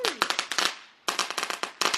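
Fireworks go off in quick, sharp crackling bursts with rapid pops, a short gap, then another loud string of cracks close by, and a voice briefly heard at the start.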